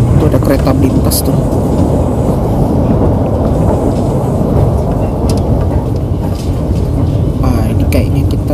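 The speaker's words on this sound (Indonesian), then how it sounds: "Kereta melintas tuh" A train passes near Bekasi station, heard from aboard an Indonesian express train, as a dense, even roar and rumble that stays loud and unbroken throughout, with voices faintly underneath.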